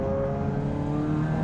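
A turbocharged Subaru BRZ/Toyota GT86 engine heard from inside the car just after lifting off the throttle gives a brief, steady droning hum with a faint whir and no talking.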